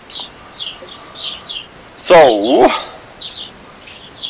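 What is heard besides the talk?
birds singing outside on a deck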